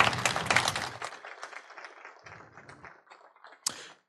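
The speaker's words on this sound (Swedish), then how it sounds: "En applåd tycker jag till det här gänget." Audience applause for a group of presenters at an ArcGIS user-day conference, a burst of clapping that fades over a few seconds, followed by a few scattered claps.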